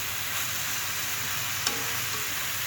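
Spices, mung dal and mixed vegetables with taro fry in a pan for a Bengali ghonto, making a steady, even sizzle with one brief sharp clink from a utensil partway through, and no voices.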